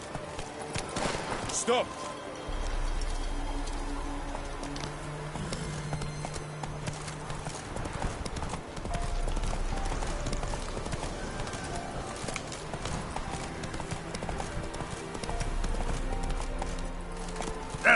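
Hooves of the horse Roach clip-clopping in The Witcher 3, a rhythmic trotting clatter that starts, stops and starts again, heard beneath spoken dialogue and a shouted call, with light game ambience behind.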